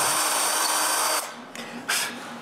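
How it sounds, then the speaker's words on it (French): Power drill boring a hole through the centre of a piece of wood, a steady high whirring that runs loud for about a second, then drops and returns in two brief bursts. "Je perce donc un trou au centre."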